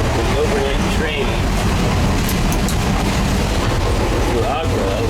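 Overnight train to Agra, India heard from inside the restroom: a loud, continuous rumble and rattle of the moving carriage, with clanks and squeals of metal running through it.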